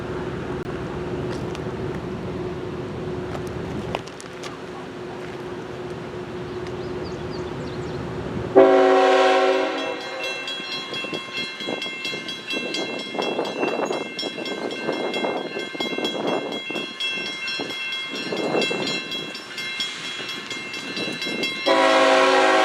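A northbound intermodal freight train led by NS locomotives 3613 and 8815 and UP 4649 pulls into Watkins Yard, a low rumble followed by a loud, sustained multi-tone horn blast with wheel noise underneath, sounding again near the end.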